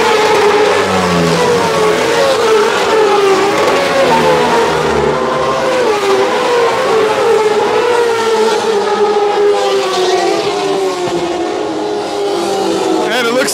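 Racing motorcycles on the first lap of the 100th Loudon Classic roar past at full throttle, engines rising and falling in pitch as a loud, continuous pack of bikes accelerates and shifts nearby.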